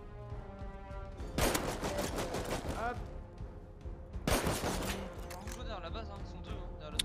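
Gunfire in the survival game Rust during a raid: two dense bursts of rapid shots around the first and fourth seconds, with lighter scattered shots between, loud and close over a steady game backdrop.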